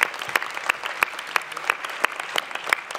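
Audience applause at a 2024 New Year greetings ceremony, a moderate crowd clapping steadily with sharp individual claps standing out in the hall.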